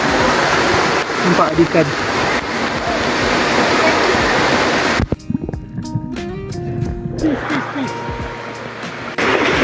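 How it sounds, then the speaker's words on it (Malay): Waterfall on Tioman Island, a loud steady rush of falling water that cuts out abruptly midway and returns softer near the end; a person speaks briefly over it. "Dekat air terjun."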